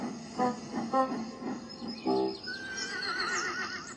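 A horse neighs in a children's train story: several short whinnying bursts up close, followed by higher warbling tones.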